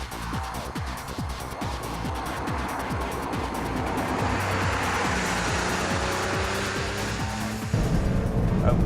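A Porsche on a race track revs hard with rising and falling engine tones as it shifts through gears, then settles into a steady drone before a sudden change near the end.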